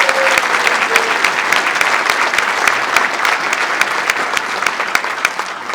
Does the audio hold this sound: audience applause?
yes